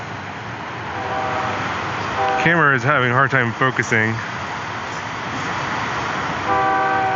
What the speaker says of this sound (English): the train is gone, but still blaring its horn